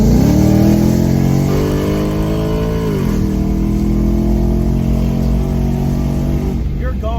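A loud supercharged Ford Mustang Mach 1 engine with an Edelbrock supercharger roars close by, its pitch climbing as it accelerates, then holding a steady high drone after a gear change.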